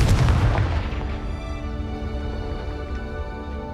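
A Confringo fire spell blasts in Hogwarts Legacy, a loud booming burst at the start that rolls off into a long ringing, reverberant decay with no talk over it.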